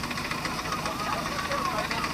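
Steady car engine running with a rough, knocking rumble while the motor smokes after the radiator took on cold water; nearby voices talk over it throughout.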